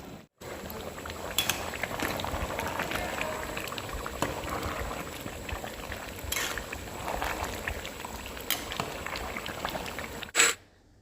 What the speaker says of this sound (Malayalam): ചിക്കനിലെ വെള്ളം വറ്റി വരുന്നുണ്ട്